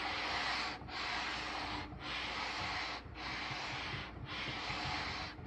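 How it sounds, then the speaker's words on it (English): Sandpaper on a sanding beam rubs along an ebony guitar fingerboard in steady back-and-forth strokes, five long hissing passes broken by brief pauses, close and even with no talk. "I'm going to switch over to sandpaper and finish it out that way."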